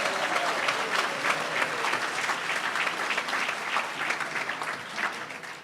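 Sustained, enthusiastic audience applause fills the hall at the National Rhythm and Blues Hall of Fame induction ceremony in Cleveland, Ohio, dense clapping holding steady for several seconds with faint crowd voices.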